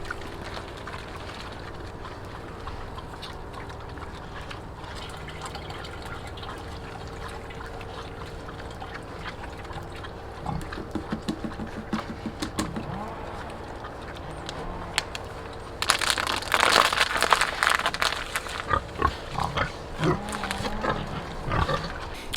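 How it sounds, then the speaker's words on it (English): A pig on a homestead farm, low grunts and snuffling at a distance among outdoor farm noise, with a louder burst of splashing or pouring near the end. "See that pig over there?"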